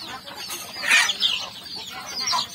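Farm chickens at a rural yard in the afternoon cluck in a few close, short bursts, with soft scattered calls between them and no talking.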